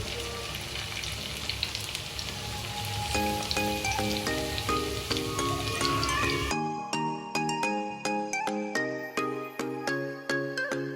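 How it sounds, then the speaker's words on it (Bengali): Maggi pakoras with black cumin deep-frying in hot oil give a steady hiss and crackle for the first few seconds. The sizzle is partly masked by prominent melodic music, which carries on alone at the end. "তেল গরম হয়ে গেছে, এখন পকোড়াগুলো ভেজে নেব।"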